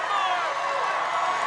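Arena crowd cheering on a 22-year-old competitor at an international Ninja Warrior competition, a dense steady roar filling the whole short moment without a break.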